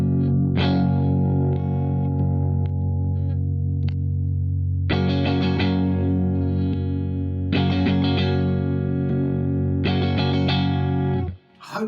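Electric guitar played through a Taurus Amplification Servo 2 pedal gives thick, distorted, sustained chords with a swirling effect, restruck every couple of seconds and ringing alone before cutting off at the end.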